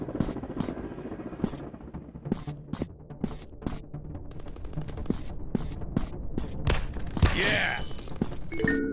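Sharp gunfire bursts in a PUBG-style first-person shooter game, irregular single shots and rapid volleys over a low rumbling background, ending in a louder explosion-like blast.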